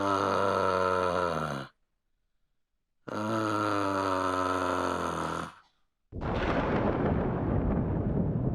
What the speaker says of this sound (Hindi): ये बिजली काहे कड़क रही है बे? मई के महीने में बरसात?